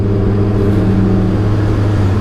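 A Kawasaki ZX-10R sport motorcycle on a group street ride, its engine running with a steady low, even drone rather than sharp revs, continuous and fairly close throughout.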